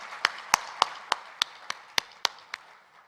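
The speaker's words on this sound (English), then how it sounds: "So one round of applause for Ahmedabad." Sharp, evenly spaced claps ring out one after another at a corporate brand launch event in Ahmedabad, about ten distinct slaps with a slowing rhythm, fairly close and alone without talk.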